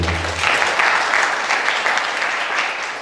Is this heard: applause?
yes